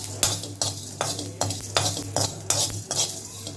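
Mustard seeds, fenugreek, cumin, poppy seeds and spices dry-roasting in a pan for Bojwara, with a spoon scraping and stirring in regular strokes, roughly every half second, sharp clinks over a low steady hum, no talking.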